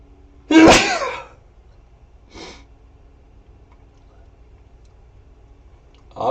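A loud, close sneeze bursts out at a trader's desk, followed by a much softer sneeze a couple of seconds later and the start of another at the very end, with quiet room tone in between.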